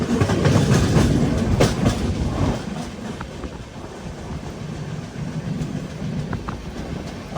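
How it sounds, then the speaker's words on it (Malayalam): The Mangala Lakshadweep Express, heard from a sleeper-class coach, rolls toward Pattambi station in Kerala with a continuous loud rumble and rhythmic clickety-clack of wheels over rail joints, no voices. "പട്ടാമ്പി റെയിൽവേ സ്റ്റേഷനിലേക്ക് നമ്മുടെ ട്രെയിൻ എത്തിക്കൊണ്ടിരിക്കുകയാണ്"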